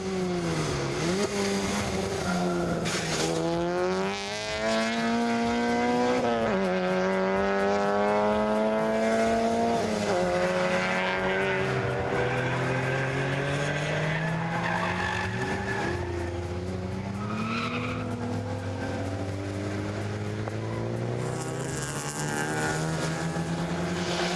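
Race cars, a Honda CRX among them, screaming past on a circuit, with continuous loud engine whine rising and falling through gear changes as cars close in and pass.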